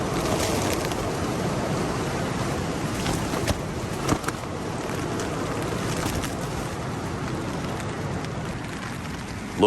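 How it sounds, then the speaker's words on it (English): Steady rain drums on a tent through the night outdoors while wind gusts rush over it, a dense continuous wash with a couple of brief louder flaps near the end. "Loving the sound of the rain, not loving the sound of the wind."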